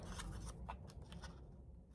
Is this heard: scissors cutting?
yes